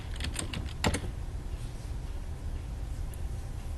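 Keystrokes on a computer keyboard, a few quick taps clustered early then a lone click later, faint against a steady low room hum with no one talking.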